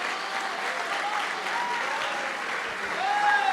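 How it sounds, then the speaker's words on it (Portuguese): A church congregation applauds in praise during a sermon, giving steady, dense clapping that holds evenly for several seconds and swells slightly toward the end. "As palmas louvem a Jesus."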